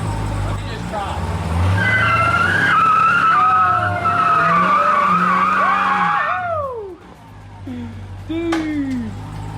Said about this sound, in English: I'm gonna try to do a burnout real quick